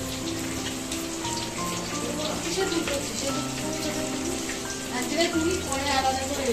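Fish fries in a large wok over a fire at an outdoor family picnic, giving a dense, continuous crackling sizzle that stays loud throughout.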